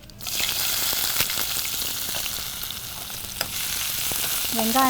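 Cinnamon and fennel seeds crackle and sizzle in hot oil, a loud steady frying hiss with occasional pops and a brief stir near the end.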